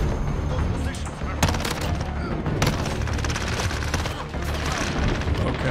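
Rapid automatic gunfire in a video game shooter, loud and near with a dense continuous stream of shots and a few heavier bursts, mixed with a voice talking over it.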